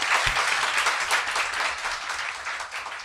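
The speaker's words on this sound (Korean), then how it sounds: "박수." Steady applause from a live studio audience, many hands clapping densely and continuously at even loudness throughout.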